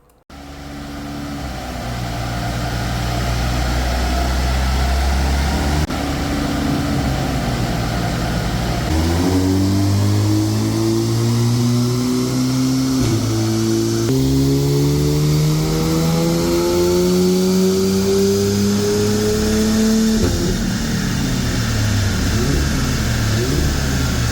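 A remapped 2-litre Audi S3 engine revs repeatedly, pitch sweeping upward in several climbing pulls with brief drops between, loud and close with a steady idle rumble underneath.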